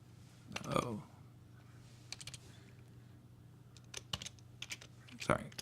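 Fast bursts of clicking keystrokes from a computer keyboard, tapped in short irregular clusters at close range with pauses between.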